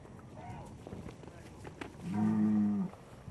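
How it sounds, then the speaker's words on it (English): Cattle low during a gaucho roundup on the Argentine pampas, with one loud, drawn-out moo rising out of a busy outdoor background of shuffling and distant herd noise. "Every day, the gauchos round up their herds."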